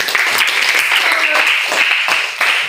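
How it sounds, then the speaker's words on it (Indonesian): Students clap together in an Indonesian-language classroom lesson, a loud, close, continuous patter of many hands that stays strong and even from start to finish. "tepuk tangan dulu"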